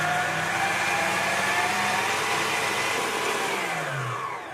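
An electric mixer creams butter and sugar for a vanilla wedding cake, a loud, steady motor whir with grinding, continuous throughout and slightly easing at the end, without talking.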